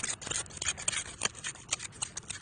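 A hand scratches and scrapes at dry soil beneath a thin, sandless concrete slab with no rebar, in a roadside pit. The sound is a close, irregular rasping rub with bursts of gritty scraping and no talk.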